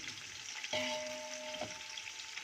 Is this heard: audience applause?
no